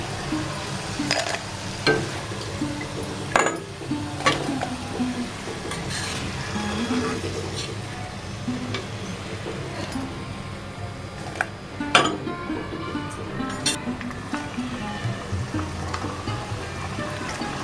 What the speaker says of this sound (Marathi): सर्व शंकरपाळ्या अशा पद्धतीने फ्राय करून घ्यायच्या